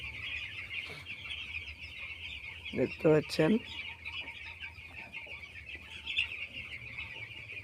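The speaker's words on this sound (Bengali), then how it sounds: "কত মুরগির বাচ্চা।" Chickens and chicks in a poultry farm shed keep up a constant high peeping chatter, joined midway by a few louder close clucks; someone speaks briefly over the flock.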